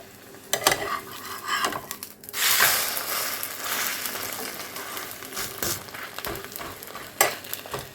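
An egg paratha fries in ghee on a pan, giving a constant close sizzle with clattering and scraping of a utensil against the pan at irregular moments.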